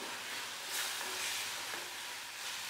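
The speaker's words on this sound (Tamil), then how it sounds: "நல்லா வதக்கி விட்டுக்கலாம்" Onions and tomatoes sautéing in a pan for goat intestine curry, a steady soft sizzle of frying with faint stirring, fairly quiet and close, with no voices.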